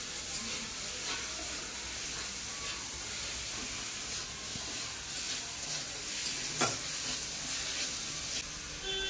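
Spice paste with tomato, garlic and chilli cooks over medium heat for a fish curry, giving a low, continuous frying hiss with a few soft stirring scrapes throughout and no talking.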